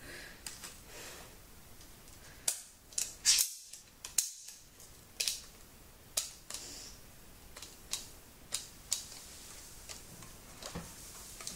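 A toy cap gun fires a series of sharp, snapping pops at irregular intervals, about a dozen shots. Each one is close and crisp against a quiet room hiss, with no talking.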